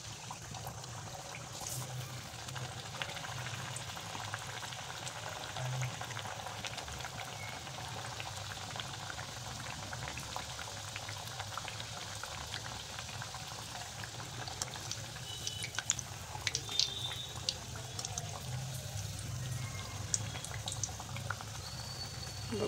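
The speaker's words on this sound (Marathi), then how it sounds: "तेल छान तापलेलं आहे. आता आपल्याला पुऱ्या सोडायच्या त्यामध्ये." Puris for an Ashadhi Ekadashi fasting meal drop into well-heated oil and fry with a steady, close bubbling sizzle that holds fairly even throughout.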